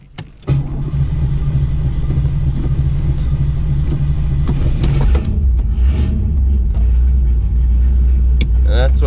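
A car coming out of storage cranks briefly and then catches, settling into a loud, steady rumbling idle up close, with a few faint clicks and rattles near the end.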